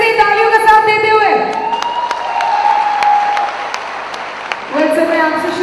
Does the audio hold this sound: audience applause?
yes